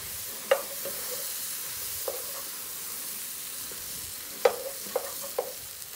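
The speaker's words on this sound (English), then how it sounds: "we want to stir quite a bit because you don't want this stuff to get stuck" A spoon stirs a mixture in a pot on the stove over medium to medium-high heat, giving a few sparse, close clinks and scrapes over a soft, steady background hiss.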